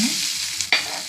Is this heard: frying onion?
yes